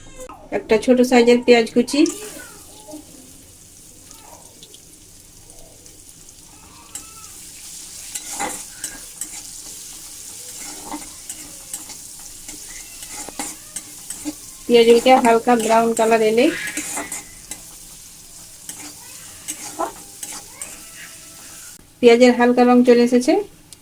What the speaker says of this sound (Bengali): সাদা তেল দিয়েছি তাতে কালো সর্ষে দিব চিলি ফ্লেক্স সাদা তিল